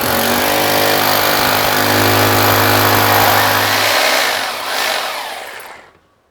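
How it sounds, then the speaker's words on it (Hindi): An electric drill bores a hole while a reverse osmosis water purifier is being installed, a loud, steady whining drone for about four seconds before it winds down and fades to silence. "अब हम ड्रिलिंग वाला कार्य करते हैं"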